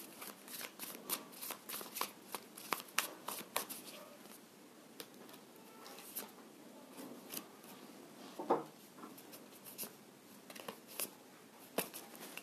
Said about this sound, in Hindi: बट मैं फिर से शफल कर लेती हूँ